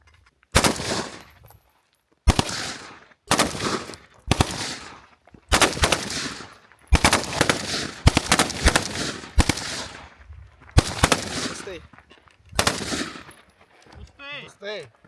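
Automatic rifle fire at an outdoor shooting range in Donbas, with shooters working from a kneeling position after a reload: loud, close bursts of rapid shots repeat over and over with short gaps between them.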